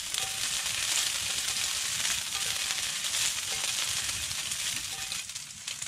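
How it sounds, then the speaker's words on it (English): Tahr testicles frying in a pan during a New Zealand winter hunt, a loud, steady sizzle and crackle close by, with no talk over it. "I'll just give them a little bit of a press down and a good sizzle."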